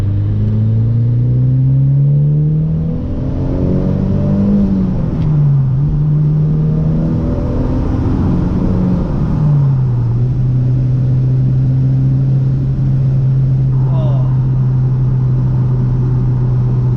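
A Mitsubishi Lancer Evolution VII engine revs hard and climbs in pitch through the gears while overtaking, loud and close, with a sustained droning rumble afterward.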